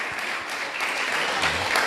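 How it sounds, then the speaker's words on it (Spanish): A church congregation claps steadily and loudly together, a continuous wash of applause with no gaps. "Dale un fuerte aplauso a que vive"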